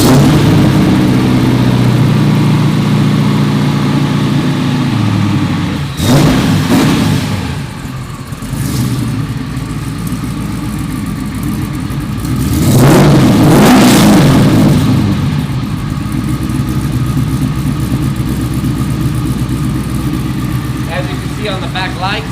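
A restored 1969 Camaro with an LSX engine rumbles at a loud, close idle, with two sharp revving bursts surging midway, while a person talks over the engine noise.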